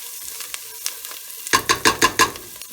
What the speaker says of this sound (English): I'm just going to put this in here and wait for my onions to cook a bit